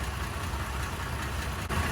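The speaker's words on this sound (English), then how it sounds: "I'm gonna go ahead and keep the engine running." A 2021 Toyota Tacoma engine idles steadily up close, a continuous low rumble with a faint brief tick near the end and no talking.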